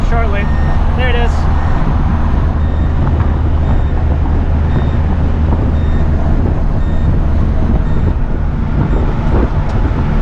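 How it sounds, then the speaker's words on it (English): Speed alarm of a 1983 Honda Acty Street L, a repeating electronic beep chiming steadily over loud engine drone and road noise while the small van climbs a hill, with talk in the cabin. "we'll hear the speed alarm shortly"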